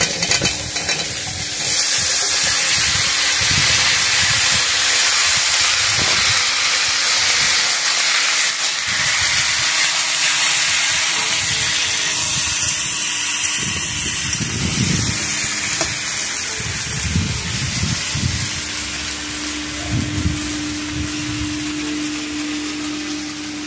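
Pieces of pumpkin, stalks and sweet potato going into a hot pan for a vegetarian curry, with a loud, steady sizzle and hiss throughout and occasional scraping stirs over it.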